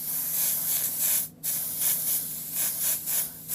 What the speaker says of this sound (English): Try not to go too heavy quick when you're spraying against a mask.